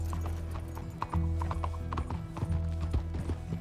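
Horse hooves pound in a quick, steady galloping rhythm close by in Red Dead Redemption 2, with a low rumbling drone of game music or ambience underneath.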